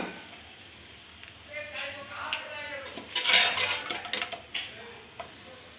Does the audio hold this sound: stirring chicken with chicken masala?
yes